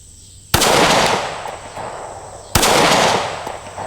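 Two sharp Springfield rifle shots ring out at a 100-yard range, about two seconds apart. Each is a loud, close crack followed by a long, fading echo, with no talking.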